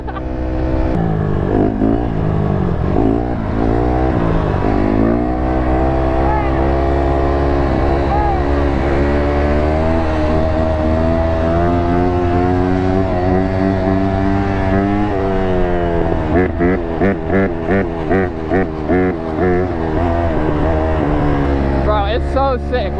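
A 450 ATV engine revs loudly on sand dunes, rising and falling through gears with sustained throaty roar close to the rider, voices talking and shouting over it.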